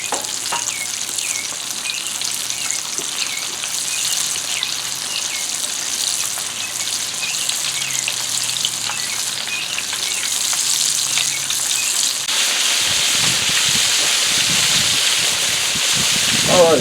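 Thick, fatty tenderloin steaks sizzle loudly in hot oil in a pan, a continuous crackling hiss that swells stronger partway through, with a voice speaking over it.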